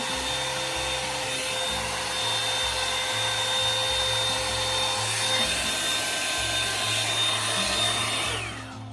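A Revlon round brush hair dryer blows steadily for several seconds with a constant high whine, close to the listener, then cuts off abruptly at the end.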